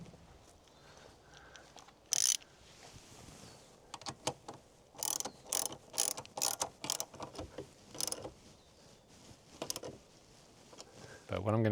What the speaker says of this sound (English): now we can tighten up the bolts.